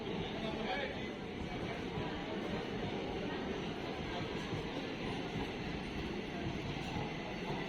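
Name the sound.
Sealdah–Lalgola passenger train passing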